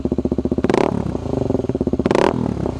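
A Suzuki DRZ250 dirt bike engine fitted with an FMF Quiet Core exhaust insert idles close by with a steady, rapid putter, swelling twice into brief, louder throttle blips with rattly exhaust.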